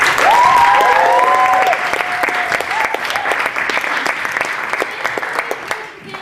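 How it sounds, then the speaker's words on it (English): An audience at a comedy show gives loud, dense applause for three performers; a voice speaks briefly at the start before the clapping carries on alone and fades slightly at the end. "So give them a round of applause."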